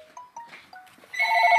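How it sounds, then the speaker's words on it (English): A telephone rings in a home kitchen, a warbling electronic ring that swells loud and steady after a few faint chirps, heard alone without speech. "oh, that's the phone."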